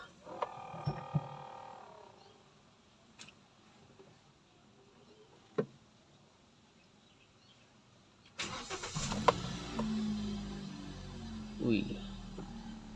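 A 2016 Hyundai Accent gasoline car engine cranks and catches after a quiet stretch, then settles into a steady idle close by; a few clicks and knocks come first, and people talk in the background.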